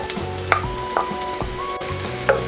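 Onion hitting hot oil with garlic already frying golden brown, giving a steady close sizzle with a few sharp clanks and scrapes of stirring through the short stretch; no one speaks.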